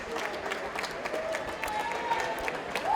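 Applause and crowd cheering at the Hockomock League swimming championship in a pool hall, steady clapping from many spectators with a faint voice and a whistle-like tone on top.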